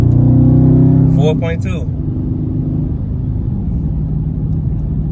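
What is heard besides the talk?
2020 Dodge Charger Scat Pack accelerating with Goodyear tires spinning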